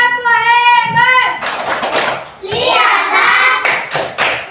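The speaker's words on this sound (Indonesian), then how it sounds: "tepuk hebat, tepuk hebat." Children in a classroom chant and clap a quick rhythmic praise cheer in unison, sung voices first, then a burst of sharp group claps and thuds mixed with more chanting, loud and close.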